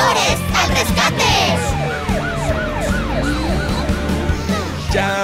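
A loud wailing ambulance siren in a children's song sweeps up and down repeatedly, close by, with traffic rumble underneath.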